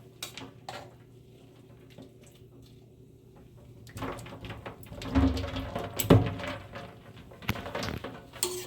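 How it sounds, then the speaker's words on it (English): Freshly picked garden beans are tipped into an ice water bath in a home kitchen, with clattering of a pot and bowl, splashing and clinking bursts after a quiet start, close by and without speech. "bring my beans out into the ice bath"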